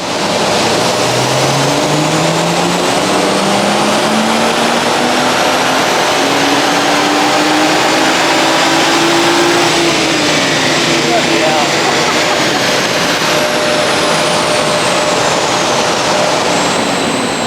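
A stock BMW M140i running on a dyno, its engine note climbing steadily in pitch as the revs build, loud and continuous, then easing briefly before holding a high, sustained roar to the end.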